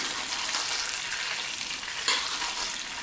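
Steak sizzling loudly and steadily in a hot pan with garlic while being basted with its own juices, a brief scrape of the spoon standing out partway through, no voices.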